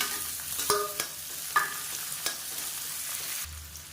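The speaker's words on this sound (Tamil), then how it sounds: "இப்போ நீளமாக நறுக்குன்னா வெங்காயம் வந்து சேர்த்துக்கலாம்." Sliced onions being stirred into hot oil with curry leaves for chicken sukka, giving a steady soft sizzle with several sharp utensil knocks against the pan, close and alone.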